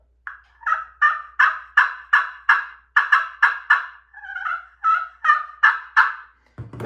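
A slate pot friction call scraped to imitate a turkey hen, giving a rapid series of about fifteen sharp, raspy yelps in an even rhythm, loud and close with no talking.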